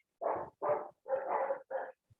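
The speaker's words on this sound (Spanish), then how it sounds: "Mis perros están locos, ya viene otra persona." Dogs bark in a run of four or five loud, close barks with short gaps between them, one bark doubled. No voices are heard.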